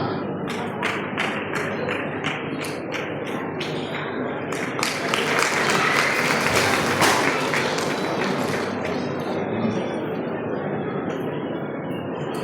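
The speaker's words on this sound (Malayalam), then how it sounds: "നല്ലൊരു കൈയടി നൽകണം." Dense, steady applause from an award ceremony audience in Salalah honoring students for SSLC and CBSE exam results, a continuous crackle of many hands clapping that swells slightly in the middle and holds for the full stretch.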